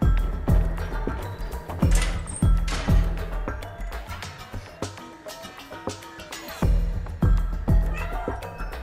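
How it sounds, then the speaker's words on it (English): A cat meows in the video game Stray, with a run of repeated meows at a steady pace over quieter in-game sound, and a pause in the middle. "I can literally meow in the cutscene."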